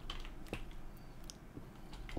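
Faint, sparse clicks of a computer keyboard as a label is typed for a turtle in Minecraft, a few separate keystrokes over quiet room tone.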